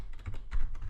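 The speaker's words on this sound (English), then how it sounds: "I'm going to type in password as my password" A password is typed on a computer keyboard, with a quick close run of soft key clicks filling about a second.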